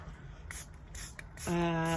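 Short hissing bursts from a spray can come in three quick puffs. A low tonal hum then rises over the final half second.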